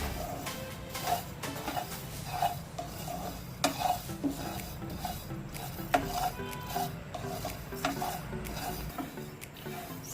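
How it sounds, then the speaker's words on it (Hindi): Whole coriander seeds roasting dry in a pan, with a close, steady rattle and scrape as they are stirred continuously, dotted with sharper clinks of the spoon against the pan. "धनिया को डालूंगी और इसको फ्राई करूंगी।"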